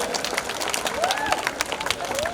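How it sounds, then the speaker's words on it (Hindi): Applause from a crowd at a school Independence Day celebration honours the children after their song, a steady dense patter with faint voices and a few high vocal calls rising above it. "बच्चों के लिए तालियां हो जाए।"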